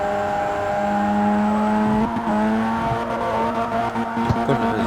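A Mazda RX-7 drifts in the video game CarX Street, its engine holding a steady high whine with sustained tonal layers and a faint tire scrub underneath, loud and continuous throughout.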